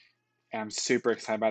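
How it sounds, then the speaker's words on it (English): A pet cat meows repeatedly in short, nasal calls, close by and moderately loud, overlapping a person speaking. "That's my cat. I don't know what she's wanting."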